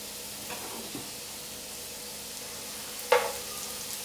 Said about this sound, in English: Pan on, oil in, fry the potatoes golden brown.